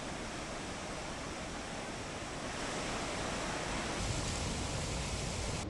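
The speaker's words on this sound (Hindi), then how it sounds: "सुखपुरी पुलिया के ऊपर से पानी बह रहा है" Floodwater of the swollen Kunda river pours over the Sukhpuri culvert after a night of rain, a steady broadband roar with no break and no voices.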